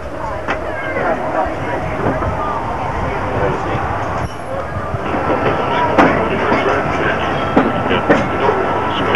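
The Disneyland railroad train rumbles steadily along its rails with faint clicks and creaks, while a voice talks over a broad, constant background noise.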